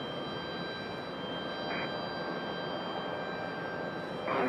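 An arriving airliner at Raleigh-Durham airport produces a steady, distant broadband roar with a faint engine whine, swelling slightly near the end.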